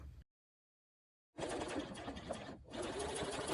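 A sewing machine stitches a zipper seam with a steady, close mechanical whir, starting after a short silence and pausing briefly before running on.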